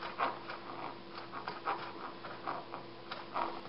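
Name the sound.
dogs panting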